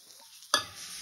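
Chilli, pepper and coriander powders fry in oil with softened tomatoes for dhaba-style egg keema. A quiet, soft hiss swells into a sudden sharp sizzle midway, then settles into a steady fry.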